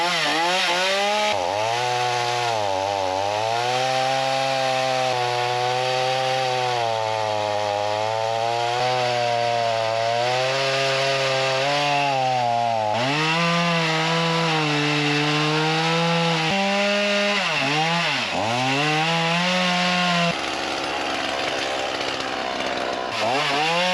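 A RYOBI 38cc gas chainsaw cuts through wood. Its loud, close engine drone rises and sags in pitch under load for about twenty seconds, then falls away toward idle.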